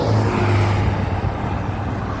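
Fast cars and trucks rush past on a busy freeway, a steady loud roar of engines and tires close by with a low droning hum throughout.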